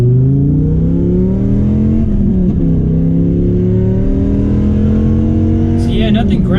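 A Dodge Viper GTS V10 revs and accelerates on an empty road, its engine note climbing in loud rising harmonic sweeps heard from inside the car.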